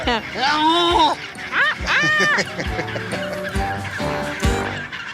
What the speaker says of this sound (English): it's more of a sort of a donkey squawk?